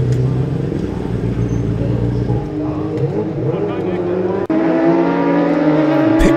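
Classic superbike racing motorcycles, a Honda and a Kawasaki, at the Classic TT: loud, steady engine roar with shifting pitch as the machines rev and pass, continuous throughout, under a commentator's voice.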